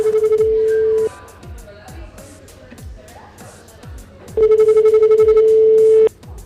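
Telephone rings out loud and steady during a live FM radio broadcast from a brasserie, a long ring at the start and another near the end, with voices and background chatter in between.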